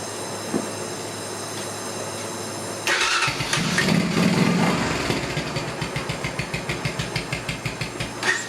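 An abandoned Honda four-wheeler engine cranks and catches with a loud burst, then settles into a rapid, even run of close, throbbing firing pulses.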